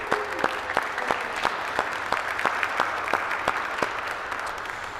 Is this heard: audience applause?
yes